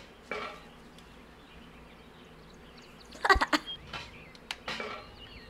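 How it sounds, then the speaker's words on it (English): A frying pan is struck, giving a sharp metallic clang with a brief ringing tail, followed by a few lighter knocks and clatters against a quiet background. "Frying pan, how does this sound?"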